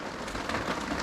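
Rain falling steadily on an outdoor camp cooking site, a soft dense hiss of drops that runs without a break through a brief moment.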